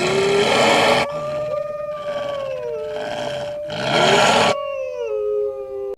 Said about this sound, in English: the three-headed dog Cerberus, who guarded the gates of the underworld